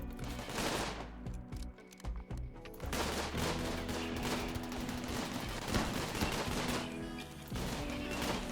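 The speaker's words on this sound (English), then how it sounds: "looks like the turrets have opened fire" Automated turrets fire guns in a Rimworld game, dense continuous bursts of gunfire with overlapping shots and a steady game music bed, loud throughout after a brief quieter opening.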